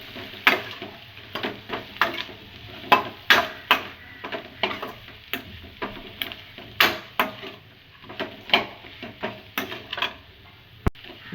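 Chilli chicken masala is stirred in a pan, with repeated scraping strokes in an uneven rhythm over a quiet sizzle and a single sharp tap near the end.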